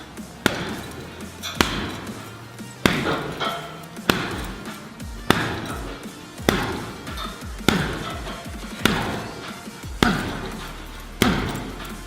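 Punches land on a heavy bag during a boxing workout: about ten sharp, loud thuds, each followed by a short decay, spaced at a slow, even rhythm of roughly one per second.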